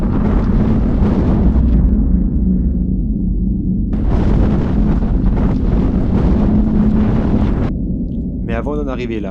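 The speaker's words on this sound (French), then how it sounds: "35 à 40 km/h de vent, avec des rafales allant jusqu'à 90 km/h" Strong gusty wind from storm Ciarán, 35–40 km/h with gusts up to 90 km/h, roars continuously across the microphone outdoors in the Gorafe and Tabernas desert area of Spain on a gravel bikepacking trip, rising and falling in loud buffeting surges.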